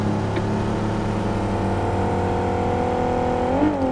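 A car engine hums and whirs steadily while driving in the mobile battle royale game PUBG Mobile, with a brief rise in revs near the end, loud and continuous with no talk.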